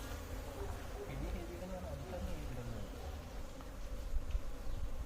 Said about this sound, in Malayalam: ഇത് പെരുന്താൻ്റെ ഈച്ചയാണ് ഇരിക്കുന്നത് ഈ തേന്റെ സ്മെല്ലടിച്ച് വന്ന് തേൻ കുടിക്കാൻ വന്നിരിക്കുന്ന ഈച്ചയാണ് ഇരിക്കുന്നത്